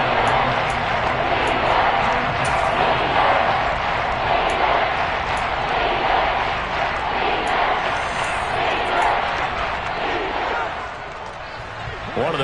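Football stadium crowd roaring steadily through a big third-down moment, a dense, loud wash of cheering that dips slightly near the end, with a commentator's voice over it.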